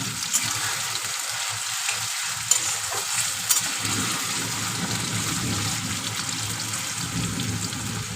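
Cut potatoes fry in hot oil while cooking a Bengali shrimp and fig (dumur) dish, giving a continuous sizzle with a few sharp spatula clicks and stirring scrapes over about eight seconds.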